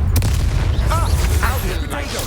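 The Bombarda spell goes off in Hogwarts Legacy as a loud, deep booming blast with rumbling low-end and scattered crackles, dense game action and effects filling the short moment.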